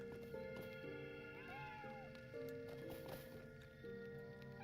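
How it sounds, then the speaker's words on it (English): A cat meows repeatedly inside the Lord of the Rings Online game world, several drawn-out calls spread across the clip over a steady bed of looping ambient music. "There's a cat with like a glowing shit on top of his head"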